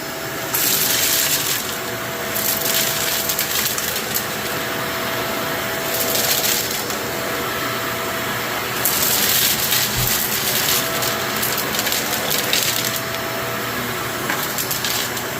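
A Shark PowerDetect vacuum cleaner runs on a hard floor with a loud, steady motor whine and airflow rush. The pitch swells slightly at moments, there are occasional rattles of debris being sucked up, and it is close and continuous with no talking.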